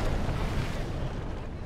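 Heavy cannon broadside in a naval combat video game, a dense rumbling barrage of booming shots rolling continuously and loudly with no clear gaps.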